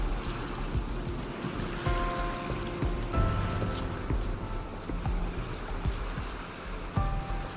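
Ocean surf washing onto a sea-turtle nesting beach as tiny hatchlings scramble toward the water, a steady broadband roar of breaking waves with wind, close and continuous, no voices.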